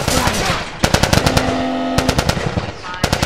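Automatic gunfire in The Last of Us on PS4 cracks in loud, rapid bursts close up, with short pauses between volleys.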